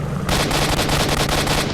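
Rapid automatic gunfire rattles in S.T.A.L.K.E.R. Shadow of Chornobyl, a loud close burst of fast repeated shots that starts abruptly and runs to the end.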